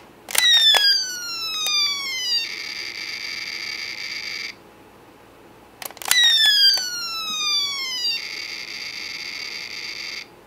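Electronic sound effects from a Kamen Rider G3 police-rider toy equipment set: two identical bursts, each a rapid cluster of descending synthetic zaps followed by a steady buzzing electronic tone, separated by a short pause, loud and close.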